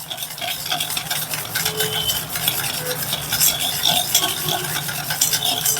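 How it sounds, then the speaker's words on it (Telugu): Dhokla batter with a spoonful of oil is mixed in a bowl, giving a quiet, continuous wet stirring and scraping with faint clinks of the spoon against the bowl. "ఇదంతా బాగా ఇలా కలుపుకోండి"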